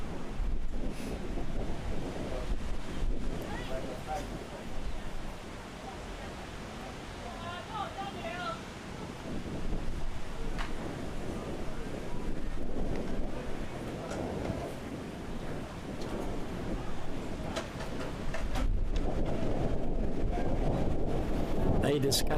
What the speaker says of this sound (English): we can hear the wind gusting through the trees